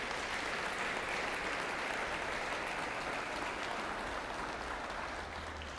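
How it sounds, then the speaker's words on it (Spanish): A church congregation applauds during a sermon, with sustained even clapping from many people that fades slightly toward the end and has no speech over it. "Denle un aplauso al Señor si usted lo cree."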